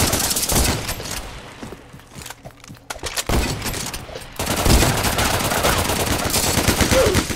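Shotgun fire in a fast-paced video game: loud, dense bursts of gunfire cluster early, drop out briefly, then return as sustained rapid shooting and explosive noise filling the rest of the stretch.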